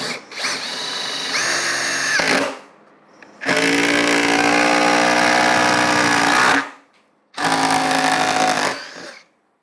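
Ryobi ONE+ HP 18V brushless impact driver with a hex bit driving a 3 5/8 inch lag screw: three loud close bursts of whirring, hammering motor, separated by short pauses, with no voices.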